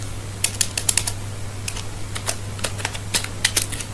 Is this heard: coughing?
no